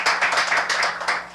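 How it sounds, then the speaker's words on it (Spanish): Applause from an audience at a cultural show of traditional Paucartambo costume, dense steady clapping heard up close with a few distinct individual claps rising above the wash. "Para el aplauso de ustedes."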